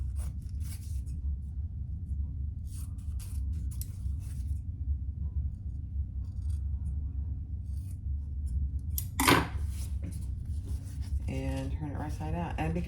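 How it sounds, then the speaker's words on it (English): Scissors trim fabric for a family travel organizer, making a series of close, crisp snips spread across the clip, with one louder cut near the end followed by soft rustling and quiet talk. "I'm just gonna trim some of that up a little."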